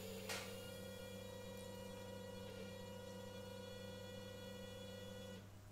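Kitchen ice cube maker running steadily with a constant electrical hum and faint tonal whine, a brief click near the start, holding level for several seconds before a slight drop at the end, no voices.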